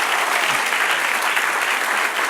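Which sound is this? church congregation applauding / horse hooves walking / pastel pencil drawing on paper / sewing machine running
church congregation applauding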